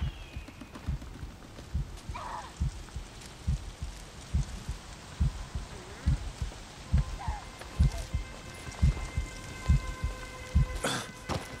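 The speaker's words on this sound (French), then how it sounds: "T'as les battements de cœur, ça veut dire qu'il y a quelqu'un dans le coin." Warning heartbeat in the video game Days Gone, a low, steady thumping pulse that repeats about once a second under rainfall and a few faint other game sounds.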